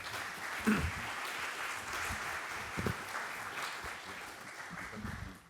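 An audience applauds after a conference panel session, a steady wash of clapping held for several seconds at moderate, distant volume, with a few louder claps standing out.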